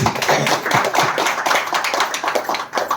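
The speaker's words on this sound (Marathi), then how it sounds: "आपण परत एकदा मॅडमसाठी सर्व टीमसाठी जोरदार टाळ्या वाजूया" People at an old-age ashram event clap loudly for the madam and her team, a brisk, uneven burst of close hand claps lasting a few seconds.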